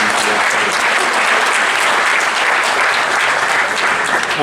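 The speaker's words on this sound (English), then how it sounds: "I want to give Wes a round of applause for continue to support" Audience at a college SAAC awards ceremony gives a round of applause, dense steady clapping filling the room at full loudness throughout with no break.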